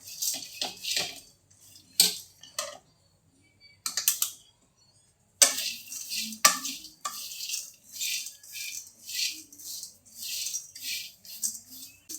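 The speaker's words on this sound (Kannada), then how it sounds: "ಈಗ ಸ್ಟವ್ ಆನ್ ಮಾಡಿಟ್ಕೊಂಡು ಕಾಳನ್ನು ಹುರಿಯೋಣ" Sprouted horse gram, green gram and moth beans dry roasting in a pan on a stove, with intermittent rattling and scraping clatter in short bursts, close and moderately loud, with no talk.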